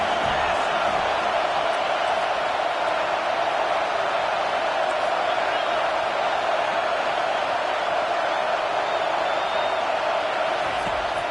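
Stadium crowd noise in the NCAA College Football 25 video game during an FSU vs. USC matchup, a loud, steady roar of a packed crowd pressing on a pinned-deep offense, constant and dense.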